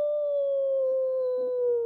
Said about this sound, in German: in diesem Augenblick, hört man plötzlich von weitem ein Geheul von Wölfen